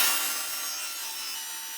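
A hand saw trims a wooden jig runner down to about 3/8 inch depth, a continuous close rasping stroke of the blade through the wood, steady and bright with no voices.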